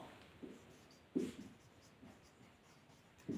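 Chalk or marker strokes on a board while equations are written out, a few faint scratchy taps spaced irregularly, close but quiet, with no speech over them.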